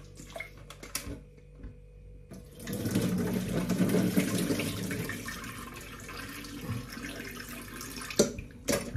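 Soaked potatoes are rinsed under a running kitchen tap. A few faint knocks come first, then a continuous splashing gush of water lasts several seconds, with small clatters near the end.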